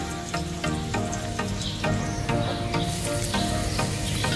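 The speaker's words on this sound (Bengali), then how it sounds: "এগুলো ভালো করে ভেজে নেব।" Chopped garlic, onion and green chillies fry in a pan for homemade Korean ramen, giving a continuous close sizzle. Regular stirring strokes cut through it roughly every half second. No one talks.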